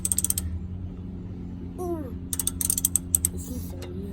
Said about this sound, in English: You're gonna go ahead and loosen those two bolts up.